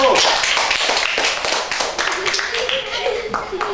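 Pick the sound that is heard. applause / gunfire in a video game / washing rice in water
applause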